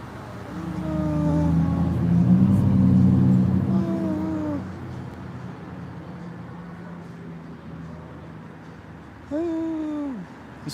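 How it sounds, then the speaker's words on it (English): A white SUV's engine rumbles and hums as it drives past at a street intersection, a steady low drone that swells and then recedes, with a separate tonal squeal briefly breaking in near the end. "I hear an engine sound as a whitey drives in front of me."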